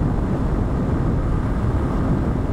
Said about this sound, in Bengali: 8000 RPM রান করতেছে বাইক।